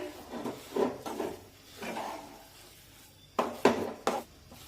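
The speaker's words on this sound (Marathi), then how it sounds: "आता यामध्ये एक चमचाभर वेलदोडे पूड टाकूया आणि व्यवस्थित मिक्स करून घेऊया" A spoon scrapes and knocks against a pan while a thick semolina-coconut modak mixture with cardamom powder is stirred. The strokes come in irregular clusters, close and fairly quiet, and no one speaks.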